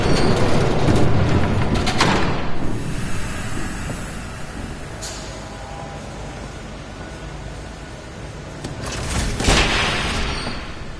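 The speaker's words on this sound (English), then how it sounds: "There's a train coming." A train rumbles past in a PS4 video game, a loud, continuous low roar with heavy booming bursts near the start and again toward the end, steady and close throughout.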